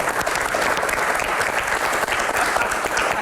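Sustained audience applause for the Democrat party at an Indonesian political gathering, a dense, even wash of clapping that runs loud and steady throughout with no pauses.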